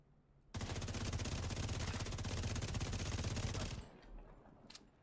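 Sustained automatic gunfire at a mini tank in the video game The Division 2: a dense, loud, continuous burst lasting about three seconds, then cutting off to quieter game ambience with a few faint clicks.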